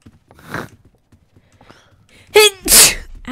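A close, loud sneeze bursts out near the end, a sharp inhaled gasp followed by an explosive release, after quieter breathing and faint mouth noises.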